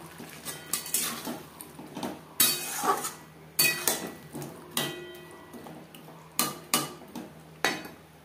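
Kitchen clatter as potatoes go into a pot of rui fish curry, with repeated sharp clinks and knocks of a utensil against the metal pot in an irregular rhythm, close and fairly loud, no talking.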